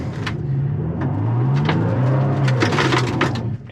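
A 2022 Toyota Tacoma TRD Pro engine revving while crawling through deep off-road ruts, a close, loud, wavering drone with rising and falling pitch, mixed with crunching and knocking from the terrain and chassis.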